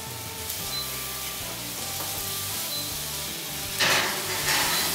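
Venison sizzles steadily while being seared in a hot pan, a continuous crackling fry that swells louder near the end as the meat shifts, with no voices.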